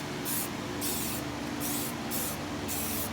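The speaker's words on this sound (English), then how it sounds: "I sprayed it all down with brake parts cleaner" Brake parts cleaner sprayed from an aerosol can onto a 1979 Ford F100 wheel, a steady close hiss pulsing in several short bursts over a low background hum.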